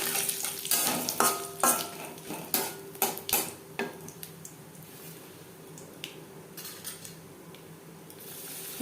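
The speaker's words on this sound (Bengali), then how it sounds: "লঙ্কা ভেজে নেওয়ার পর দিয়ে দেব 1/2 চামচ গোটা জিরে, একটা তেজপাতা" Whole cumin seeds and a bay leaf hit hot oil right after dried chilies are fried. Sharp crackles and pops burst in a dense flurry at first, then ease into a softer, steady sizzle.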